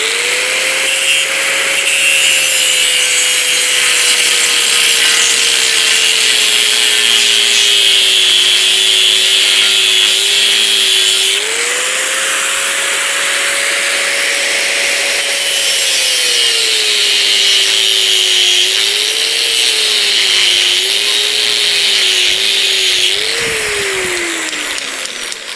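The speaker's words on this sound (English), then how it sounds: "I do realise this is the wrong use for an angle grinder." An angle grinder runs continuously at close range, a loud, steady whine that sags and rises in pitch as the tool is loaded and eased off, with no talking.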